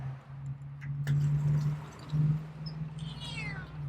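A feral cat meows loudly a few times in a row, close by, with a steady low hum in the background.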